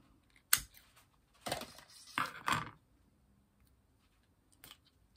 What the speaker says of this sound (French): Un petit peu de ciseaux.